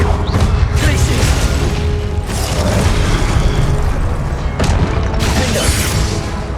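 The Glacius ice spell is cast in the game Hogwarts Legacy amid a dense, loud mix of combat effects, with crashing bursts and booming impacts recurring through the scene.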